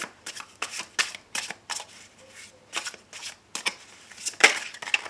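Tarot cards are shuffled by hand in quick repeated riffles and taps, close and fairly crisp, with no talk.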